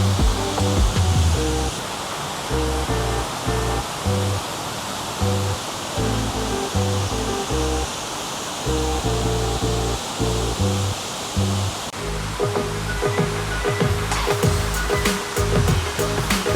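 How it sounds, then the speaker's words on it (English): A waterfall beside a hotel pool in Singapore pours in a constant, broad rush of splashing water, steady and enveloping, with low rhythmic thumping beneath it and no talk. "The sound of the waterfall, it's so relaxing."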